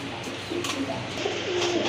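Domestic pigeons kept for sale coo softly and steadily up close, their low throaty calls overlapping without pause.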